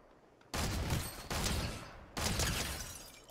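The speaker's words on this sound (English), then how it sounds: "Please don't shoot me while I'm shooting somebody!" Three bursts of rapid gunfire in the video game Fortnite, loud and close, each volley cutting in sharply after a short quiet gap.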